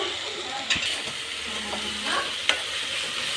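Masala frying in oil in a pan, a continuous close sizzle with stirring scrapes and two sharp clicks of a utensil against the pan, with faint voices in the background.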